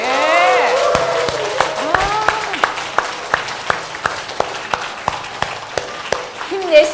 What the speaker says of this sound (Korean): 감동이 얼만큼 먹었는지 박수로 표현해 보시기 바랍니다